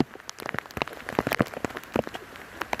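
Heavy rain pelts a surface in dense, irregular drops and splatters, with gusting wind behind it, loud and close for the whole stretch with no voices.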